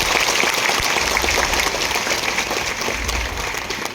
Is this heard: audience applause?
yes